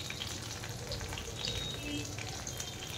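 Nigella seeds sizzle in hot oil as a base for hilsa fish curry, a close, steady crackling fry that holds evenly for a few seconds.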